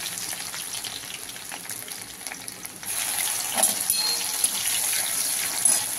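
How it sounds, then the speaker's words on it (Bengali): Crushed garlic hitting hot oil in a home kitchen, a steady bright sizzle that swells louder halfway through and keeps crackling close by, with no one talking. "আমার তেল গরম হয়ে গেছে, প্রথমে দিয়ে দিলাম রসুন থেতোটা।"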